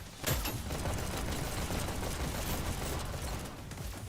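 Pistol fire in the Hyper Dash VR arena shooter, heard as a dense, continuous barrage of rapid shots and clattering mechanisms over a steady wash of game noise, with a sharp onset near the start.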